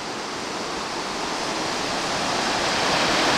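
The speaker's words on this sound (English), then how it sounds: "Very nice waterfall." Brador Falls in Labrador pours in a continuous broadband roar of rushing water, steady and fairly loud, growing a little stronger toward the end with nothing else audible.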